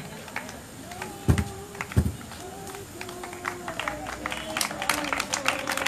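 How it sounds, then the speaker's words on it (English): Church congregation at a night prophecy service clapping in a quick, uneven patter, with two louder bursts early on, under steady talking and a sung or chanted line. "Are you just clapping like that?"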